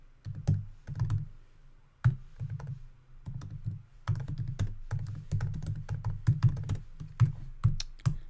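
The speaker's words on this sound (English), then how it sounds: "I'm not going to try to talk and type at the same time." Rapid typing on a computer keyboard, with irregular bursts of crisp clicks and thunks close to the mic, brief pauses between runs and no voice.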